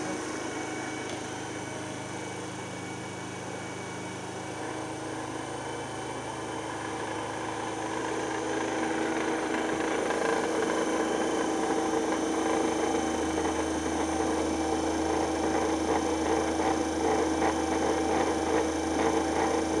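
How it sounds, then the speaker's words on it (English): An electric motor runs in a laboratory at close to 1500 rpm, giving a steady close-up mechanical hum with rich harmonics that grows louder partway through and settles into a deeper drone near the end. "the machine is running close to the 1500 rpm"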